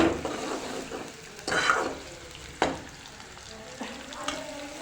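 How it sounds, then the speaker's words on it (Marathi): Food frying in oil with a steady, moderate sizzle broken by a few louder bursts and stirring scrapes, as if ingredients are being turned in the pan. "ऑइलमध्ये चांगलं फ्राय केलं की"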